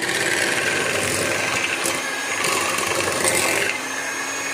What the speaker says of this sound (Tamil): whipping cream நல்லா பீட் பண்ணிக்கலாம்.